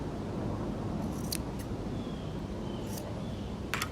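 Scissors snipping the corners of sewn fabric for a small Christmas stocking-stuffer gift, a few short crisp clips spaced apart over a steady low background hum.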